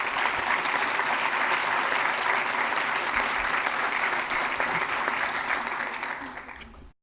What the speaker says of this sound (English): Let's give our bronze level schools one more round of applause.